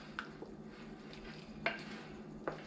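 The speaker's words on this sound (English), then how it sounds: "So I'm going to stir it up." A quiet strawberry rhubarb mixture with a little flour being stirred in a dish, three light spoon clinks against the bowl over a faint wet churning.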